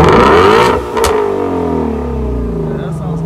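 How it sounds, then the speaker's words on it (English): A 2018 Ford Mustang Shelby GT350 with open exhaust revs hard close by, a loud deep roar that climbs and falls, then settles into a throaty rumble, with a brief sharper burst partway through. "Let it rip one more time with the open exhaust."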